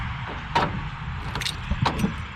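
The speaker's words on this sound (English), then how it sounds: "if I try to lock it again, it unlocks all the other doors" Door lock actuators on a Mercedes Sprinter van, which has a faulty driver's door lock, give a few short mechanical clunks and clicks against a steady background hum, close and moderately loud.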